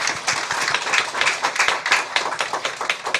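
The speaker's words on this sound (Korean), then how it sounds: "오늘 여기 앉은 분들 박수 한번 합시다" Dense, steady clapping from a church congregation during a Sunday service fills the room, a brisk patter of many hands with no talking.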